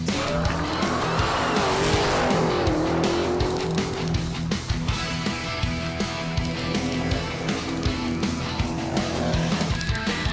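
Tom Bailey's drag race car makes its 6.01-second winning run at Drag Meet 2018, a loud, continuous engine blast with tire squeal and a dense roar that barely lets up across the run.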